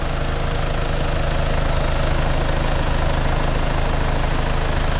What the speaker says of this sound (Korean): 엔진 소리도 일정합니다